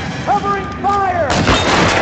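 Gunfire in the video game L.A. Noire, a broad loud burst of shots crashing in after a stretch of game noise with a tonal sweeping sound.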